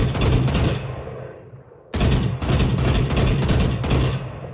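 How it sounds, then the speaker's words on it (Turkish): Short bursts from the Vandal rifle in Valorant, loud, close rapid shots cut into clipped groups, one burst ringing out and fading before a second volley of repeated bursts resumes. "Ama Vandal'da 3 mermiyi geçmeyecek abi. Onun için bu şekilde sıkmanız lazım."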